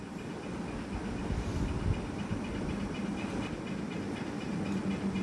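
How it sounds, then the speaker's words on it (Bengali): Crabs coated in salt and turmeric fry in hot oil in a wok, giving a loud, continuous sizzle with dense crackling and no voices. "এরপর কাঁকড়াগুলোকে ভালোভাবে ভাজা করব।"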